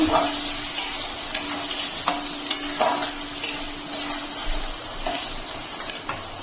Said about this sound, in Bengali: মশলাটাকে হালকা একটু কষিয়ে নেব।